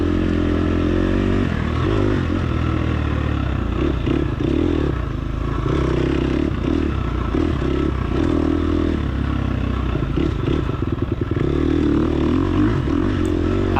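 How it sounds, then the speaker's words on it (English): Dirt bike engine droning and revving hard during a long, hot, dusty off-road motocross-style race at McMahan's Ranch, loud and continuous up close, with rattling clatter from the bike over rough ground. "This bike definitely wants to take off if you're on the throttle"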